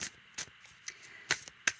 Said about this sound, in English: I'm going to just shuffle and see if there's another one.